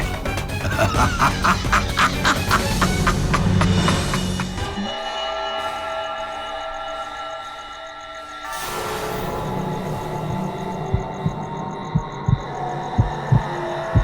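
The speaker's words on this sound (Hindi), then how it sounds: "मैं माँ के दिल की धड़कन को सुन सकती हूँ।" Honking cries and a droning tone give way to a slow run of soft, regular heartbeat thumps near the end.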